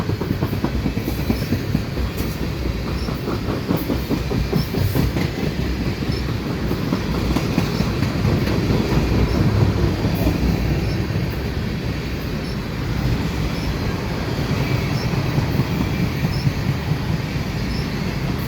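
A CPKC mixed freight train of tank cars and hoppers rolls steadily past at Dorval, a loud, continuous rumble with rhythmic clickety-clack of wheels over rail joints.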